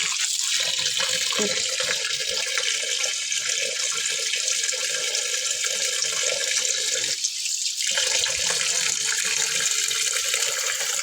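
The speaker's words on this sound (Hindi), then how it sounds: "सारा साग जो है ना खुले पानी में ही डिप होना चाहिए, ताकि एक एक पत्ते में से तमाम मट्टी निकल जाए।" Mustard greens are swished and rinsed in a bowl of water, giving a continuous splashing, running-water sound with one brief dip near the end and no talking.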